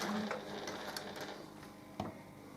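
A sewing machine stitching around the corner of a fabric pouch, a faint steady mechanical whirr with a few soft clicks and knocks, quiet and close.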